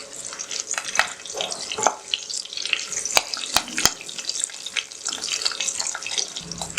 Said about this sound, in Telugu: నెక్స్ట్ నేను ఇందులో కొద్దిగా కరివేపాకు అనేది వేసుకుంటున్నాను. ఇవి మనం ఒక జస్ట్ 2 minutes ఫ్రై చేసుకుందాము.